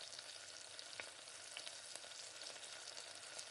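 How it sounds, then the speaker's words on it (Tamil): Mutton bones fry in oil and are turned over in the pan, giving a faint, even sizzle with light scrapes and taps from the stirring utensil. "எண்ணெயிலே நல்லா பரட்டிக்கணும்."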